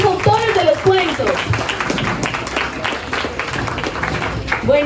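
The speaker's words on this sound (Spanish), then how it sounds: "Por favor, público, aplaudimos mientras ellos entran" A studio audience claps as the authors of Colombian short stories walk in at a reading event, brisk crowd applause mixed with a voice speaking over it.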